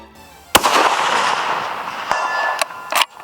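A .300 Win Mag magnum long-action rifle fires on a long-range shooting range: one sharp, loud crack followed by a long rolling echo, then a few fainter distant clicks and knocks.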